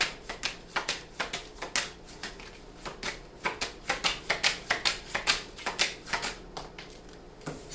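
Tarot cards riffled and shuffled by hand in quick, crisp bursts of papery slaps and flutters, steady and close, then a card drawn from the deck; no talking.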